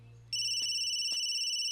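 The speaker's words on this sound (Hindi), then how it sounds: "वहीं से फोन आ रहा है" A phone starts ringing abruptly with a steady electronic two-tone trill, sounding close and clear after a brief low hum.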